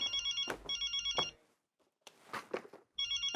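An electronic telephone ringtone chirps in repeated bursts, a gap with faint talk-like noise, then ringing resumes; loud and close indoors.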